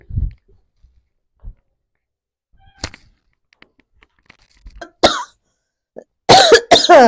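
A person coughs and clears the throat in a few isolated bursts, ending in a loud cluster of harsh coughs near the end, with quiet pauses in between.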